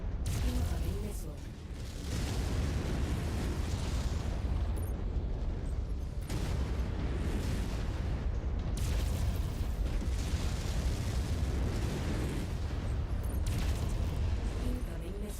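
Incoming missile explosions in MechWarrior 5: Mercenaries, a sustained rumbling barrage of blasts and booms under heavy mechanical noise, dense and continuous with a few sharper hits, with radio-style voice callouts mixed in.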